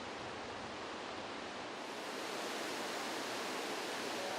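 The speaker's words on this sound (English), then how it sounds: "Here the river executes a steep downward rush and the force of the waters is a little scary" A loud, steady roar of rushing water, broad and unbroken like a torrent close by, from a Himalayan river making a steep downward rush.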